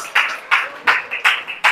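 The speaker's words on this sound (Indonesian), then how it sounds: "kasih tepuk tangan" A school class clapping together in rhythm, five sharp, evenly spaced bursts of group claps at close range in a classroom.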